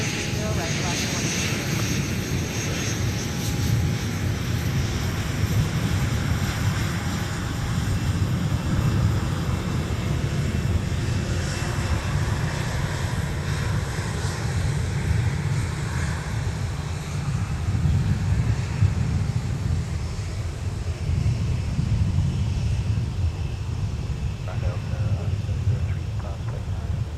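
Jet aircraft engines roar on and around the runways at Minneapolis–Saint Paul airport as a steady, distant rumble under crackly air traffic control radio chatter.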